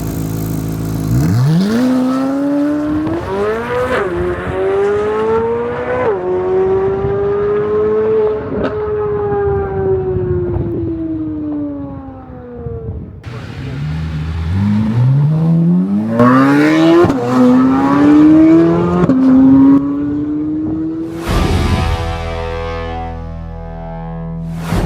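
A Chevrolet Corvette C8 Z06 on a race track, its engine loud and close, revving up through gears with sharp shift breaks, easing off, then climbing hard again with a rasping, high-pitched wail.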